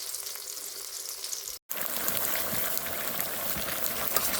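Fish frying in a pan on a home stove, a steady dense sizzle that cuts out for a split second and then returns, loud and close, with no talk.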